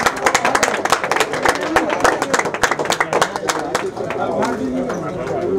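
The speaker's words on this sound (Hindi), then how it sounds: "जोरदार तालियां बजीजिए।" Applause from a crowd at an Indian official event welcoming a commission chairperson, a burst of dense, close clapping mixed with background chatter and voices.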